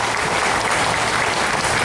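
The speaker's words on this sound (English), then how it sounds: "Can we give a hearty applause for our achievements and success?" Hearty applause from the audience at the Civil Aviation Authority of the Philippines eighth anniversary event, a dense, even wash of clapping throughout.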